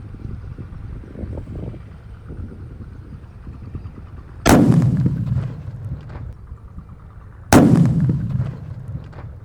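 Two loud, sharp booms from large firecrackers go off a few seconds apart, each ringing out and decaying, over a low rumbling background.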